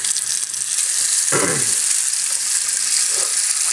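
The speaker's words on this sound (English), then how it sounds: "Fill up the sink." Water from a faucet runs in a steady, loud rush, filling a sink close by, with no talk over it.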